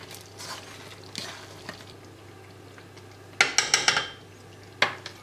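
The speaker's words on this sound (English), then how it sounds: "Just want to give it a stir." Paneer masala being stirred in a pan, a low simmer bubbling under a quick run of sharp metal spoon scrapes and clanks against the pan, then one more clank.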